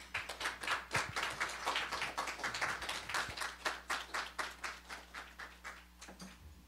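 Audience clapping at a breakfast forum to welcome a former minister as lecturer, a steady close patter of many hands that fades toward the end.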